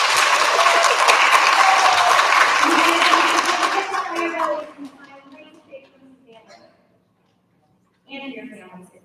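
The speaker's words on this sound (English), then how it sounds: "Big round of applause for our third graders." An audience at an elementary school recognition ceremony applauds third graders: dense, loud clapping for about four seconds, fading into scattered claps and murmuring, with a voice starting to speak afterward.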